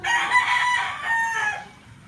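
A rooster of a breeding-stock gamefowl line crows loudly and close by, one long drawn-out call that trails off, with no talking.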